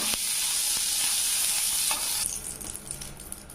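Butter-coated bread sizzles on a hot pan, a bright steady frying hiss that softens and turns more crackly toward the end.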